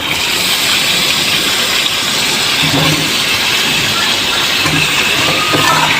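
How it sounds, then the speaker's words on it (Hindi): Chicken pieces and turnip fry over high heat in a pan, giving a loud, continuous broad hiss and sizzle throughout with faint stirring knocks. "चिकन अभी थोड़ा पानी अपना छोड़ेगी, इसलिए मैं इसको तेज़ आंच पे इसके साथ ही भूनूंगी"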